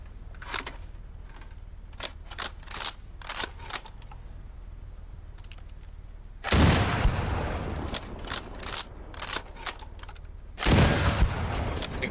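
Sniper rifle shots in the video game Stormworks, a series of sharp, evenly spaced cracks, followed by two much louder, heavier blasts with lingering rumble.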